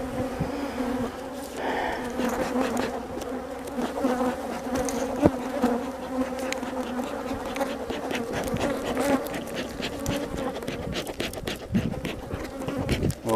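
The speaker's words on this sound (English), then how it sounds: "I got some bees after me. They're not happy." Honeybees buzz close around a hive with a dense, continuous hum and scattered crackles from nearby movement; there is no speech.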